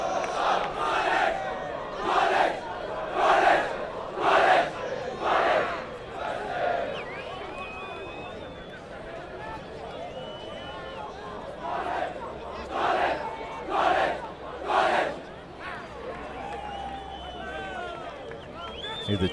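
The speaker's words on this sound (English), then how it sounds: "As we see Grey College with their war cry" Grey College school crowd chanting a rugby war cry in the stands, rhythmic rising shouted bursts from many voices with pauses between, commentary talking over it.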